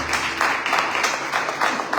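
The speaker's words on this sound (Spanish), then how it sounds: "Denle un fuerte aplauso a la palabra del Señor." A church congregation applauds during a sermon, steady dense clapping from many hands filling the room at moderate loudness throughout.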